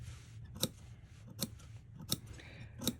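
Scissors snip fabric for a vintage sundress, four crisp, evenly spaced clips close by, quiet between each cut.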